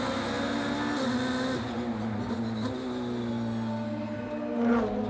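A DTM race car works through the chicane at the Nürburgring, its engine droning steadily at close range with small pitch shifts as it brakes and accelerates, a brief surge near the end.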